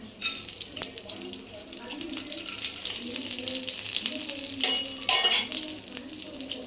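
A steady crackling hiss of mustard seeds and urad dal frying in hot oil, with scattered pops and a low background hum.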